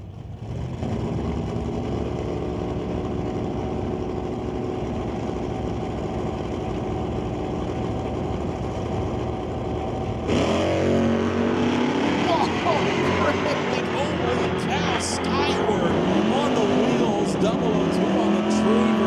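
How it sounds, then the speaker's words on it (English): Chevrolet Malibu wagon with a Johnson's Customs exhaust at a drag race, engine droning steadily before a loud, rising launch roar with shifting pitch sweeps as the car accelerates down the strip. "BC Scale Johnson's Customs exhaust running in the Malibu wagon against Angelucci's regular Malibu."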